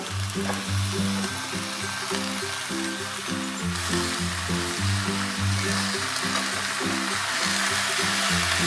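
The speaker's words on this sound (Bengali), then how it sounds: "সেই পুঁই শাকগুলো আমি এর ভেতরে দিয়ে দেব দিয়ে ভালো করে নেড়ে চেড়ে নেব" Malabar spinach sizzling loudly in a hot pan, a dense, close frying hiss that holds steady while the greens are stirred, under a low rhythmic background hum.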